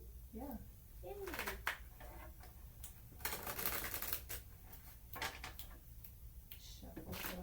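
Playing cards are shuffled in quick riffling bursts, with soft handling clicks and murmured voices around them at low volume.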